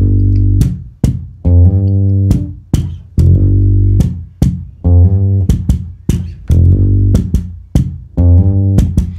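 Bass guitar plays a rumba/mento bass line, jumping between low and high octaves in a steady, bouncy rhythm of short plucked notes, close and clear with no talking.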